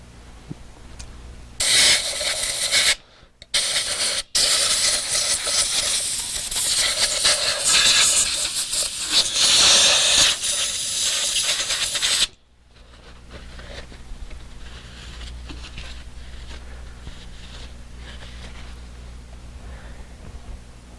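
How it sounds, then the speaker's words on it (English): Compressed air hisses in loud, steady bursts while blowing lint off the outside of a Slickbald Class 4 sewing machine, with two short breaks before the jet cuts off, leaving a low background hum. "The easiest way to clean the outside of the machine is with compressed air and a shop towel."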